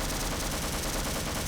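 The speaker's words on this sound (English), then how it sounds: "SMG," A video-game SMG from the Half-Life spin-off and Deep Rock fires a steady, rapid, unbroken stream of loud shots for about a second and a half, with nothing else heard.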